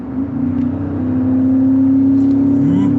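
A beat-up car driving right alongside, its engine droning with a steady hum that builds and holds, loud and close, with a brief faint voice partway through.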